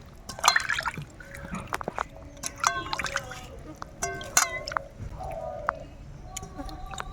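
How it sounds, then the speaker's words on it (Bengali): Small puti fish are rinsed again and again in water, with splashing, dripping and trickling in uneven bursts close by while a voice talks over the sloshing. "এটা কিন্তু বারবার ধুতে হবে যতবার ধোবো এরকম নোংরা জল যতক্ষণ বেরোবে ততক্ষণ পর্যন্ত আমি ধুয়ে নেব"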